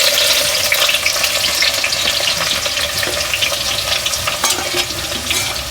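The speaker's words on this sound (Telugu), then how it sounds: "మనకు నూనె వేడైంది కదా ఇప్పుడు ఉల్లిగడ్డలు వేసుకుందాం" Onions fry in hot oil in a clay pot for chicken curry, giving a steady, loud, close sizzle with crackling pops and stirring scrapes throughout. No voices are heard.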